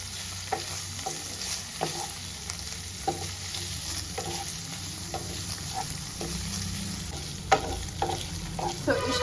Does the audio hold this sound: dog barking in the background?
no